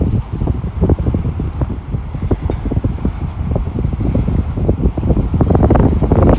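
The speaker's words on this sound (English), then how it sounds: "It's very windy over here." Strong wind buffets the microphone in continuous low rumbling gusts, loud and unbroken throughout, with no other clear sounds.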